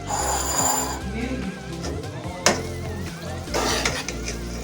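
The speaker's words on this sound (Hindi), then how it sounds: "अब इसे डिश आउट करते हैं।" Mash dal with chopped green chillies being scooped out of a pan with a utensil, giving clinks and scraping against the metal, a sharp knock midway, and a soft sizzle underneath.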